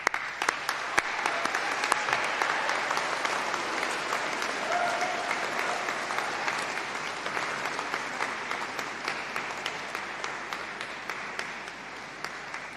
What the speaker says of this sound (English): please give a huge cheer and a huge round of applause to everyone sitting in front of you who has supported you